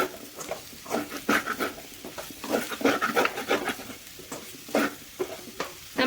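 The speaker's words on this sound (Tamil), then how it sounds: "இப்படியே அடுப்பை வந்து ஃபாஸ்ட்டாக இல்லைன்னா மீடியமாக வச்சு கலந்து விட்டுக்கோங்க" Potatoes frying in oil on a stove are stirred with a utensil, giving soft scraping and rustling strokes over a quiet, steady sizzle, irregular and fairly close, with no voices.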